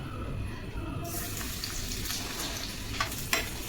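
Finely chopped garlic frying in hot oil, a steady close sizzle and crackle with a few brief stirring scrapes near the end and no talk.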